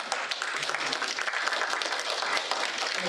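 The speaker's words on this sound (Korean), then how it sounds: "여러분들 박수로 환영해 주시고." An audience at a tea-culture academic conference in Korea applauds to welcome a speaker, a dense, steady wash of many hands clapping throughout, fairly close and fairly loud.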